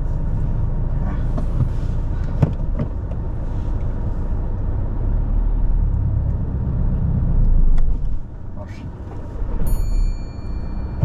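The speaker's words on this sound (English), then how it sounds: "Yeah, let's drive off." A car pulls away during a mock driving test, a low steady engine rumble inside the cabin that surges as it drives off, with occasional clicks and people talking over it.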